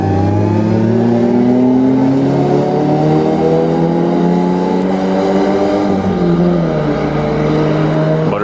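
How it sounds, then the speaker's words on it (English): A motorcycle and a Toyota GT86 pass on a road, their engines loud and close with rising and falling harmonic tones as they rev and accelerate by, sustained for several seconds with no talking. "Motorcycle versus GT86"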